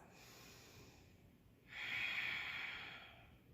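Slow breathing of a person holding a yoga forward fold during a vinyasa session, a soft airy breath that swells into a louder, longer exhale midway and then fades, close to the mic with no talk.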